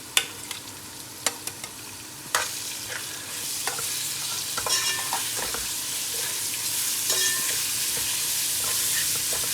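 Half a kilo of minced keema frying in a karahi for a quick karahi keema, a steady close sizzle with sharp spoon scrapes and clanks near the start, continuing alone without talk.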